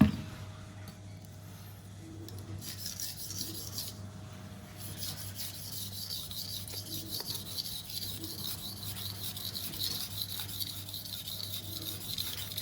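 A chef knife is drawn across a Naniwa whetstone in a steady run of soft, close rasping strokes, quiet and even, over a faint steady hum.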